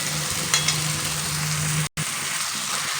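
Mutton curry being sautéed in oil, a dense continuous sizzle with stirring scrapes, close and fairly loud, a steady low hum beneath and a brief dropout near the end.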